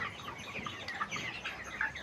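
Chickens on a poultry farm cluck and chirp in a busy overlapping chorus, faint and a little distant, with no talking.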